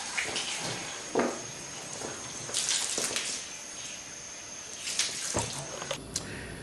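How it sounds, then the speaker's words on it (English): Running water from a sheeting rinse splashes and sheets off a car's surface in a steady flow, with bursts of louder spraying and a faint high whine in the background. "Sheeting or a pooling rinse, baby. That's how it works right there,"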